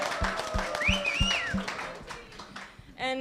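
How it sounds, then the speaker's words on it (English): A panel audience claps together in a strong, steady rhythmic beat of loud synchronized claps, with whistles and cheering above it, before the clapping thins out and a voice speaks briefly at the end. "A bigger clap, guys."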